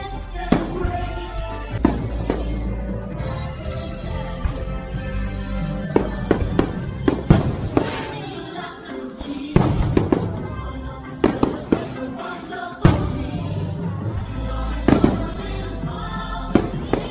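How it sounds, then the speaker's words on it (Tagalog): Fireworks display at Enchanted Kingdom theme park, with a long run of sharp bursting bangs and crackles at irregular intervals, loud and close, with faint crowd sounds between blasts. "Yan ang birthday ni Armac, may pa-fireworks."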